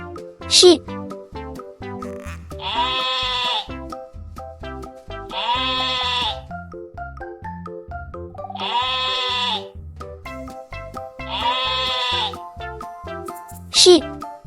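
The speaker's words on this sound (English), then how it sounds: "This is a sheep." A sheep bleats four times at regular intervals, each a loud wavering cry over light background music, with short sound effects at the start and end.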